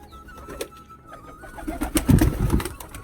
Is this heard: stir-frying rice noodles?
no